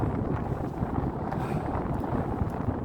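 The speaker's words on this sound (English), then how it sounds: "It's a cold wind." Cold wind sweeps the Dorset coast at Chapman's Pool, buffeting the microphone with a steady low rumbling roar and no voices.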